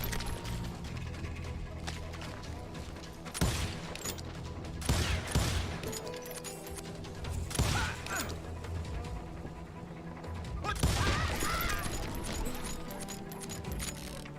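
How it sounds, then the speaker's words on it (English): Gunfire from a pistol and shotgun in the western shooter Call of Juarez Gunslinger, with sharp shot bursts at irregular intervals over a constant background of game music and ambience. "They're shooting"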